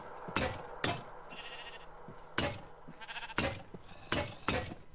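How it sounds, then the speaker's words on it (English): Sheep bleat repeatedly in the Minecraft modpack Hexxit, a blocky survival video game, with short separate calls spaced across the moment over a faint steady background. "Get out of the way, sheep!"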